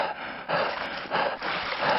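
A horse pants in the Mini Block Craft video game. Its heavy breaths come as a rhythmic series of about four airy bursts, with short pauses between them.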